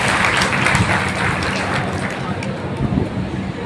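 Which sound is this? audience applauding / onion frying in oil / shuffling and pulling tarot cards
audience applauding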